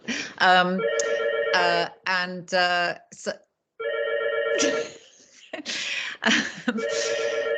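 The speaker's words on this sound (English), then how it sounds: "somebody just rung my phone" A phone rings during a live online lesson, with a bright repeating melodic ringtone pattern in several bursts, loud and close, with a voice talking briefly around it.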